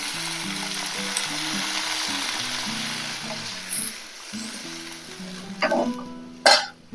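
Vegetables for a sour puti fish curry frying steadily in a pan, a continuous close sizzle that bursts louder near the end as water is poured in.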